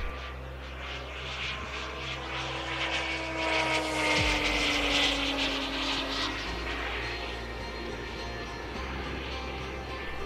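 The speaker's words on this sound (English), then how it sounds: "The engine sounds fabulous, and it's surprisingly quiet considering how powerful it is." JetCat turboprop engine on a Siai Marchetti model aircraft, a steady propeller and turbine drone with a whining tone that shifts pitch midway, moderately loud and continuous with no talk.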